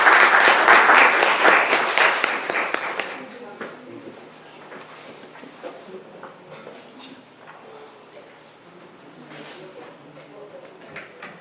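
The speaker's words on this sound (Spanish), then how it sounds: "les pido que la recibamos con un fuerte aplauso" A hall audience at a medical general session on occupational health claps loudly to welcome a speaker, a dense burst of applause for about three seconds that then thins into scattered claps and soft room noise.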